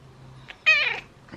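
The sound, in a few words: cat meowing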